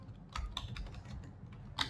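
Brief bursts of keystrokes on a computer keyboard as HTML and CSS code is typed, a few close, crisp clicks in quick succession with no talking.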